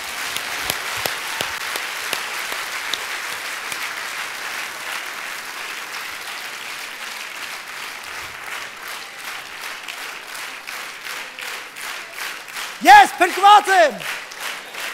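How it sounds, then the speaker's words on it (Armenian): A church congregation claps in a steady, rhythmic beat for a long stretch, the claps crisp and evenly spaced, before a voice speaks loudly at the end. "եկեք ծափարենք Տիրոջը"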